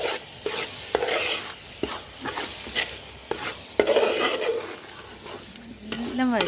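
Beef masala being sautéed in a pan crackles and sizzles under repeated spatula scrapes and knocks in uneven bursts, close and fairly loud, with no speech.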